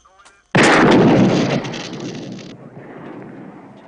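A gunshot from a film scene blasts at a police radio, one loud sharp report followed by a long decaying rumble and echo.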